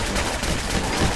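Gunfire in the video game Fallout 4, Far Harbor, as a dense, loud burst of continuous shots filling a brief moment, with no other sound standing out.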